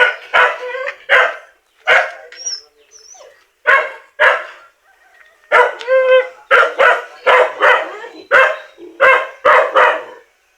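A white dog on a small farm barks repeatedly in short, loud, close bursts, some barks coming in quick doubles, with brief quiet gaps between them.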